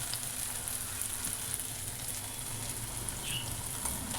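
Puffed rice fries in a pan for a Telugu-style borugulu snack, giving a steady, close hiss and light crackle with no talk over it.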